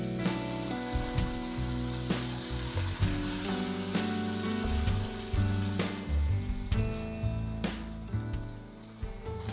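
Ground country-tomato paste goes into a hot pan for a fish kuzhambu and sizzles and fries steadily, close and fairly loud, with stirring throughout and no talking.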